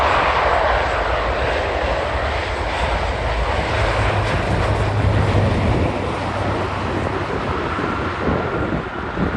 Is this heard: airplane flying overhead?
yes